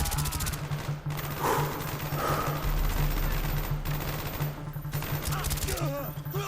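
Machine gun bursts crackle through a battle in the Call of Duty: Black Ops Soviet base mission at Mount Yamantau, sustained gunfire with shouted voices over it.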